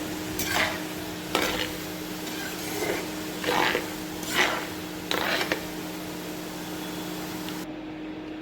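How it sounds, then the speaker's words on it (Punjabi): Potatoes frying in hot oil over medium heat for aloo bhujia give a steady sizzle, with about six rhythmic scraping stirs of a spoon in the pan and a constant low hum beneath. "ਤੇਲ ਸਾਡਾ ਗਰਮ ਹੋ ਗਿਆ ਆ ਇਹਨੂੰ ਬਿਲਕੁਲ ਅਸੀਂ ਮੀਡੀਅਮ ਆਂਚ ਤੇ ਫਰਾਈ ਕਰਾਂਗੇ"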